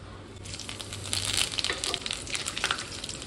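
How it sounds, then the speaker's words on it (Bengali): Fennel seeds, bay leaf, whole garam masala and dried chilli sizzle in hot oil, a continuous crackling hiss that swells partway through and stays close and moderately loud. "ফোড়নে দিচ্ছি মৌরি, তেজপাতা, গোটা গরম মশলা,"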